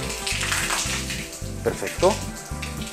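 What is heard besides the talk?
water flowing out of garden hose on hose reel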